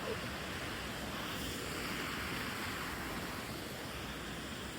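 Steady broadband rush of a river at a crossing, continuous and fairly loud, with no break or distinct event through the whole stretch.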